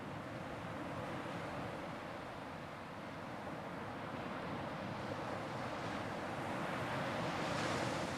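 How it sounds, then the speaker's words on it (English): Waves breaking on a sandy beach at Cape Hatteras, North Carolina, a steady broadband wash of surf that slowly swells louder toward the end, with no voices. "track one on anybody's comfort sounds has got to be waves breaking on a sandy beach"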